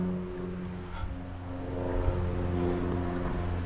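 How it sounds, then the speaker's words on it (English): A steady, moderately quiet propeller airplane drone hums overhead in wooded countryside near Pretty Boy Reservoir, swelling slightly toward the end. "Hearing that plane overhead"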